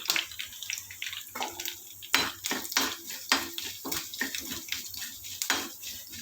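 Cumin tempering for dried red chilli gongura chutney is stirred in a small pan, with a soft sizzle beneath repeated scraping clicks of a metal spoon at an uneven rhythm.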